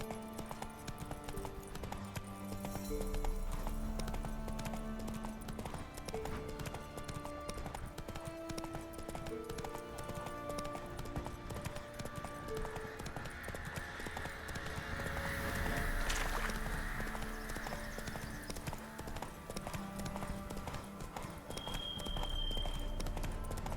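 A horse galloping in The Witcher 3 video game makes steady rhythmic hoofbeats under a layered game music score, with a faint neigh near the end.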